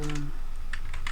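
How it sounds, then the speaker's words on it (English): Keys are struck on a computer keyboard with a few quick, crisp clicks, spaced unevenly, over a steady low hum of background noise. "oh my god, I'm typing so hard."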